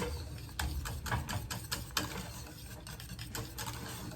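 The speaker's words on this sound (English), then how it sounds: "And I got to stir it pretty good because it had already sat up" Chocolate cream pie filling being stirred in a pot on a stovetop, producing quick repeated scraping and clicking strokes of the spoon against the pot at a steady, busy rhythm, close and moderately quiet.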